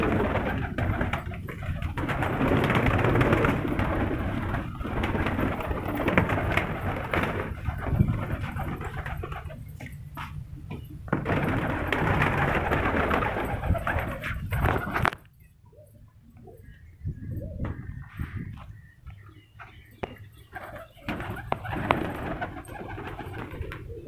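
Cooing of breeder pigeon pairs in a loft in Multan, a dense, close chorus of soft calls over steady background noise, with quieter stretches in the last third.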